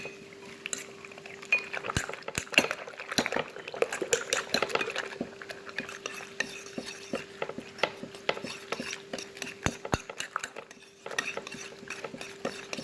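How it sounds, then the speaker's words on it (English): Eggs beaten in a bowl with salt, pepper and bouillon give a rapid run of light clicking and tapping, irregular and fairly close, with no one speaking. "Then we beat the egg."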